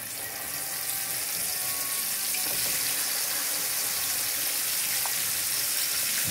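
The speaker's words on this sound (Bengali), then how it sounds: "তো এটাকে আমি ঘিয়ের সাথে ভাজা ভাজা করব।" Chana dal halwa frying in hot ghee with cardamom and cinnamon, giving a steady, even sizzle and hiss that runs throughout with no talking.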